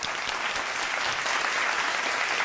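Sustained audience applause at a televised Ramadan speech competition, a thick, steady patter of clapping from many people, with no voices standing out.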